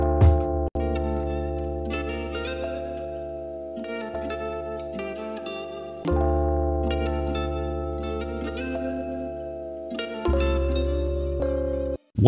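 Electric guitar run through Guitar Rig software with reverb, sustained chords ringing out in a few separate strums, each decaying smoothly with a soft reverberant tail, played alone.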